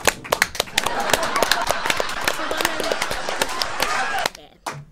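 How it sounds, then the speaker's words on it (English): An audience at a dance event applauds Sandy with sharp, scattered claps that build into steady clapping and then thin out near the end, with voices mixed in. "A round of applause for Sandy"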